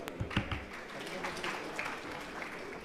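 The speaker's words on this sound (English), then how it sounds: "Ladies and gentlemen, please let's give them a warm round of applause." Audience in a conference hall applauding as speakers are welcomed to a fireside chat, a broad steady round of clapping from many hands at moderate distance, with a few sharper claps at the start.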